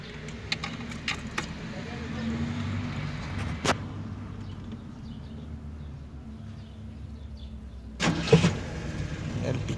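A Datsun car's engine is cranked and starts near the end, preceded by keys jangling and faint cabin movement, with a low engine rumble swelling up close after ignition.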